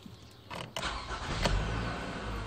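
A 2012–2017 Toyota Camry engine cranks and catches, then settles into a steady, close idle that runs on without any voices.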